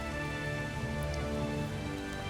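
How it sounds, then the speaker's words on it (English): Rain falls steadily in the medieval video game Kingdom Come: Deliverance, a continuous hiss layered over a constant low hum, with no one talking. "Oh, it's raining too."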